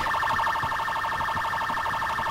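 A police siren in GTA 4 wails continuously in a rapid, warbling cycle, steady and fairly close, with no voices over it.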